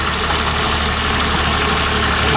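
A John Deere 5310 tractor engine, a 70 hp diesel farm tractor, idles close and loud with a steady, even rumble and faint knocking texture, unbroken throughout.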